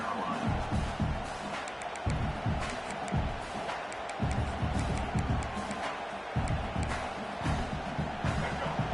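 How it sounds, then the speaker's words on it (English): A packed stadium crowd at a South Carolina at Oregon football game roars in a steady, dense wall of noise, loud and continuous with surging swells throughout. "This crowd, full throat, spreading the eardrums and letting them know it's going to be a long day."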